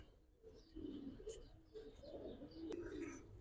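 Giribaz and high flyer pigeons coo softly in low, repeated murmurs, with faint chirps mixed in and a hint of voices in the background.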